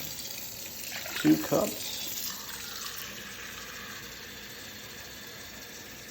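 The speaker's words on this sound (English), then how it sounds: "this is a filtered tap, so I put 2 cups of filtered water" Filtered tap water pours briefly into a measuring cup, a short splashing rush over quiet background hum, with a voice speaking nearby.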